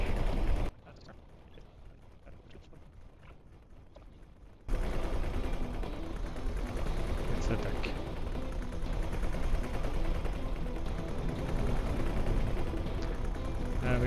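Heavy ship guns fire continuously in the space game X4: Cradle of Humanity, a dense, loud rattling barrage that drops off briefly near the start, then resumes and keeps going steadily.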